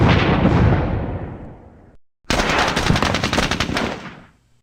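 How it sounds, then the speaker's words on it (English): Heavy gunfire and explosive blasts from mortar fire in the war game Squad Battles Eagles Strike, a loud sustained barrage that cuts out briefly, then resumes in rapid bursts before fading. "Let's mortar it up."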